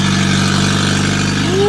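A car engine, just repaired and now moving under its own power, runs with a steady, close mechanical hum, and its pitch rises near the end as it revs.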